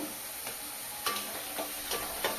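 Ginger paste frying in a little oil in a pan, a steady soft sizzle broken by a few sharp scraping strokes of a spoon stirring it, close and moderately loud.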